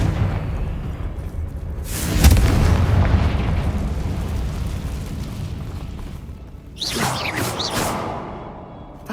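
A Confringo blasting spell explodes in Hogwarts Legacy with a heavy booming burst and a rumbling tail, followed by a second crackling blast near the end.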